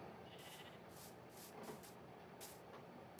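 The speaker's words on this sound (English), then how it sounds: "I heard a sheep." Minecraft sheep bleat in a short series of faint, repeated calls, several spaced bleats over a quiet game background with no voices.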